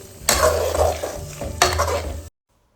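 Egg being stirred in a hot pan, two bursts of scraping and sizzling with a clatter of utensil against the pan, close and fairly loud, then an abrupt cutoff into silence.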